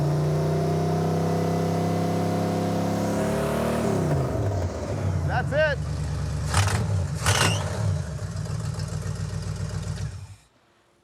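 Roadkill's Super Camaro engine idles with a deep steady rumble, surges into revs partway through, then cuts off abruptly at the end; a voice briefly speaks over it.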